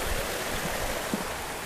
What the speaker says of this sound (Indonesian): Nah ini ada aliran air nih, kayak air terjun ya.